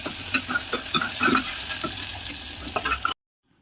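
Onions fry in hot oil with cumin in a pressure cooker, giving a close, bright sizzle with stirring scrapes and clicks, before it cuts abruptly to silence near the end.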